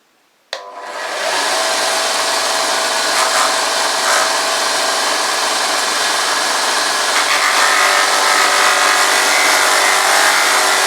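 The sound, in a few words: rubbing a knife edge with rough sandpaper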